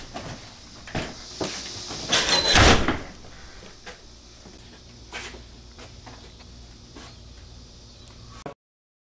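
A back door opens and closes, one louder rattling bang standing out midway among scattered softer knocks and thumps, with no talking.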